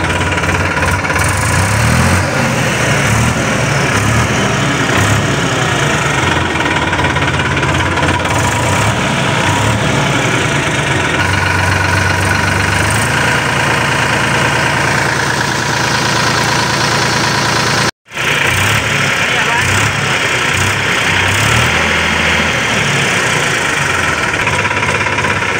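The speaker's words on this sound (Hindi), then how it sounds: "तो भाई ट्रैक्टर स्टार्ट कर दिए हैं कुछ इस तरीके से" A tractor engine, a Massey 241 or 7250, idles steadily with a loud, close, rhythmic diesel knock and vibration that runs for the whole stretch, broken only by a brief dropout.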